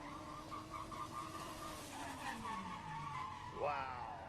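A drift car slides through a slalom past the judges at a Red Bull Car Park Drift event in Oman, its tires squealing in long wavering tones over a steady engine roar, rising sharply louder near the end.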